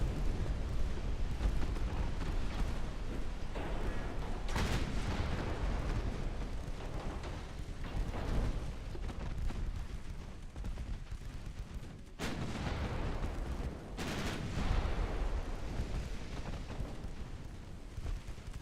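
Torpedo hits and shell explosions roar in a naval battle in the Ultimate Admiral Dreadnought warship game, a dense, continuous rumble of booms with several sharper blasts standing out.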